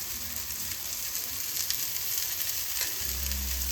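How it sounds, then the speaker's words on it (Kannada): Fish fries in oil on a tava for a tava fry, sizzling in a close, steady hiss that swells slightly near the end, with no talking. "ಒಂದು ಸೈಡ್ ಚೆನ್ನಾಗಿ ಫ್ರೈ ಆಗಲಿ,"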